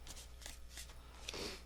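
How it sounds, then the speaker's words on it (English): A deck of tarot cards is shuffled in quick riffling bursts, close and soft, repeating several times with no talk. "Last shuffle."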